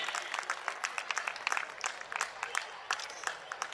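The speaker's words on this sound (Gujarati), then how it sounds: "ખૂબ તાળીઓના ગડગડાટથી આપણે વધાવીએ" An audience at a ceremony welcoming an honoree gives sustained applause, many hands clapping in a dense, uneven patter, moderately distant and even in level.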